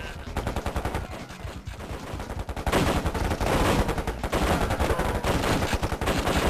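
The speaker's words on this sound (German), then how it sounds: "Irgendwo hier wird geschossen." Rapid game gunfire rattles through KKND, the German-language real-time strategy game, as machine-gun bursts and scattered shots crackle steadily and grow louder and denser halfway through, with no talk over them.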